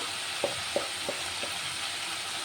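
Chicken fries in a pan with a soft, even sizzle, broken by a few faint knocks as the pieces are moved around.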